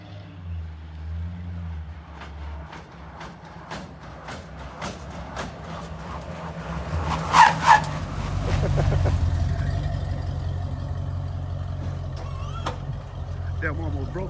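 Lowrider cars roll along a street with engines rumbling and idling, a low steady drone that swells midway as a car passes close, with scattered clicks and a loud double bang; someone talks over it.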